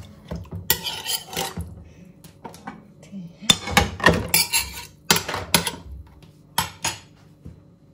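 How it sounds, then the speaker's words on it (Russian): Plates and dishes clink and clatter as they are set in one after another, with sharp, close bursts of ceramic and metal contact separated by short quiet gaps. "Сейчас еще одну тарелку положим."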